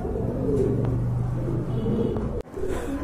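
A pair of full Kaldom pigeons coo steadily in low, rolling phrases close by, over a constant rumbling background with a brief break near the end.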